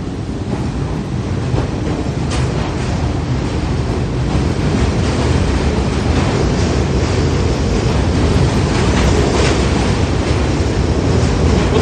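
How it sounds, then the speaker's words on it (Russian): A New York subway train arrives with a loud, steady rumble and hiss of wheels on track, a dense roar that fills the platform without letting up. "Так, ну это не тот поезд вроде."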